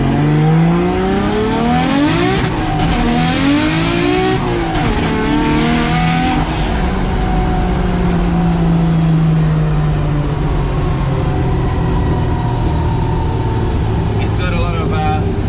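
Nissan Silvia S13 driven hard on a private road, engine revving up and down through several gear changes with rising and falling pitch, loud and close, fading into a steady drone toward the end; voices speak over parts of it.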